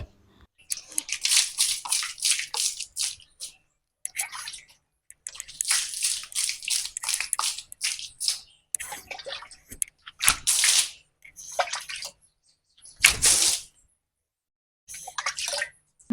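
Repeated bursts of splashing, sloshing water thrown while washing a floor come in uneven spurts with short quiet gaps between them, close to the listener.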